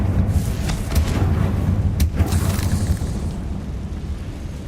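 A Confringo fire spell explodes in Hogwarts Legacy, a loud sustained booming burst with crackling rumble and a couple of sharp cracks, filling the scene without talk.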